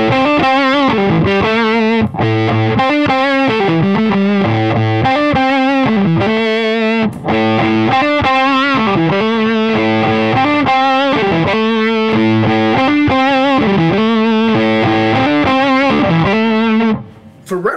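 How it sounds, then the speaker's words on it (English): Les Paul electric guitar played through a Bonamassa Fuzz Face pedal into a Marshall amp at loud gigging volume: thick, saturated fuzz riffs in a steady repeating pattern, close and continuous with no talking, then a brief stop near the end. "a couple of riffs just using a Les Paul, which I know the Bonamassa was actually voiced for that sort of input anyway"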